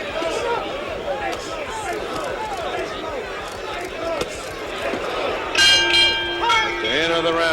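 At Yankee Stadium in 1976, during Muhammad Ali vs Ken Norton, a boxing bell rings out late to end the round: a bright, ringing tone over a steady crowd roar, with a commentator talking throughout.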